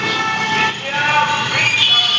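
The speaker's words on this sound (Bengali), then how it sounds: "মেট্রো একদম সেন্ট্রালেতে আমি দাঁড়িয়ে" Underground metro platform at Central station in Kolkata, with a steady loud rumble of a train and station ambience filling the whole stretch, a brief dip partway through, and a voice speaking over it.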